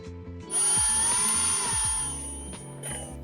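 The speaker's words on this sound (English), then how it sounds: "I'm a fan of the drill bit attachment." A power drill winding a five-string bass string whirs up with a rising mechanical whine, running steadily for a couple of seconds before slowing, close and fairly loud.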